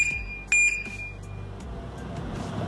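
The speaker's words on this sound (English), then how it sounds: "So after the beep, if someone tries to open it, it gives the warning like this." A security alarm lock, triggered by motion or vibration, gives a sustained high-pitched electronic warning tone with a sharper, louder beep near the start, then fades into quiet background hum.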